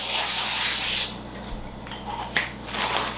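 Cooking oil is sprayed into a baking pan for a tortilla lasagna, a steady close hiss for about a second, followed by quieter scraping and rubbing with a few faint bursts.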